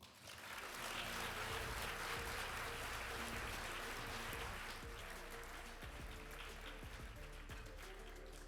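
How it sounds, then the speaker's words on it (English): Audience applause at a healthcare heroes awards ceremony, a sustained wash of clapping from a sizeable crowd that swells early and then holds steady at a moderate distance. "Please give a round of applause for Emily Johnson"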